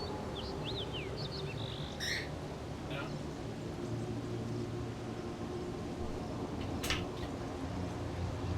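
A pet bird chirps in a few short, high whistling bursts early on, with faint clicks later, fairly quiet against a constant background hum.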